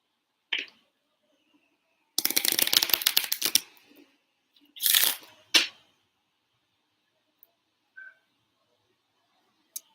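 A deck of Lenormand oracle cards is riffled in a quick flurry, followed by a second shorter riffle and a few soft taps and clicks, with quiet gaps between.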